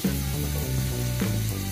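Food fries in a pan with a continuous close sizzle, with a few faint tonal clinks as it is stirred.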